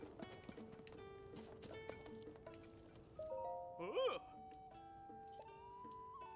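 Horse hooves clip-clop at a steady gait in Zelda: Tears of the Kingdom, soft and regular beneath game music and tones, with a brief louder burst near the middle.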